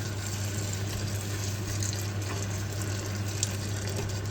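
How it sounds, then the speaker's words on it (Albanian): Hot water pours steadily into a cooking pot for a beef stew, a continuous close gushing and splashing stream with a low hum underneath, and no talking. "Tani shtojmë ujin, po ujë të nxehtë."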